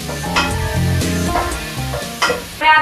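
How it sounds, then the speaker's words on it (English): Steady frying sizzle from a pan of onions and vegetables being stirred, scraping and clattering now and then, no voices. "We're going to sizzle up those veggies."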